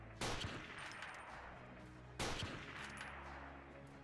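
Gunfire in the video game Freeman: Guerrilla Warfare during a factory defense battle: two loud bursts of sustained shooting, each with a sharp onset that trails off into rattling continuous fire.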